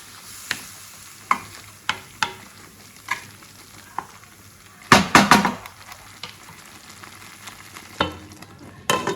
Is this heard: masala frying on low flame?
yes